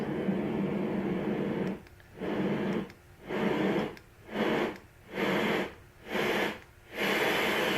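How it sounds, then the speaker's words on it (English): Steady broadband white noise hissing for several seconds, then pulsing on and off in a regular rhythm of short bursts and brief gaps. "that is a white noise sound. And it gets more and more like a hiss."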